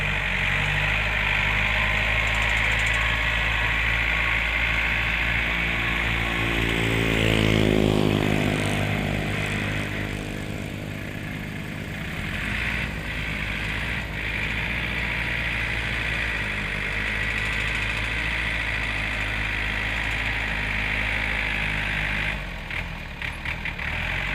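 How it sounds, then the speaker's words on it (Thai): A 45-horsepower Yanmar tractor engine runs steadily nearby while grading laterite soil for a road, a low rumbling drone that rises briefly in pitch as it revs, then settles back to a constant chug. "ตอนนี้กำลังเกียร์ดินครับ รถเกต รถไถแท็กเตอร์นะครับ เป็นยันมานะ 45แรงมาก"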